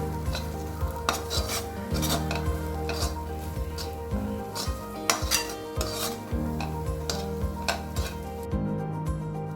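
Tindora fry being mixed and scooped from a pan into a serving bowl, with a soft sizzle, repeated metal scraping and clinks of a spoon against cookware, close and steady.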